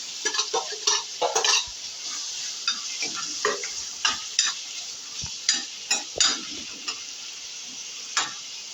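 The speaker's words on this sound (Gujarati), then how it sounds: "હા, ડુંગળી સમારેલી છે, 2 ડુંગળી સમારી છે, તે નાખી દઈશું. અને થોડી સાતળવા દઈશું ડુંગળીને." Two chopped onions sauté in hot oil in a pan while a spoon stirs and scrapes them, a steady sizzle under repeated clinks and scrapes, close and alone.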